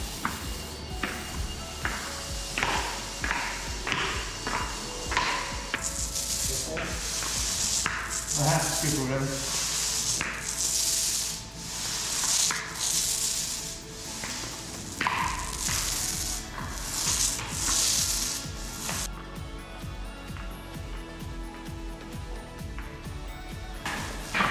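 A roller spreads epoxy coating across a garage floor in repeated strokes, a steady wet rubbing and rolling sound with brief taps and shuffles, close and fairly loud, with no talk.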